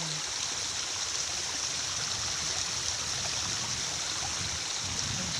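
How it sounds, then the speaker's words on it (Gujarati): Floodwater from heavy rain pours out of a farm field in a continuous rushing flow, steady and fairly close, like a small stream with no pauses. "જોયું ને તમે આ પાણી જાય આમેથી અમારા ખેતરમાંથી જાય બધું પાણી આ"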